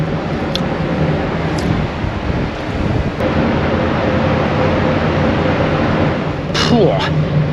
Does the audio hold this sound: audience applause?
no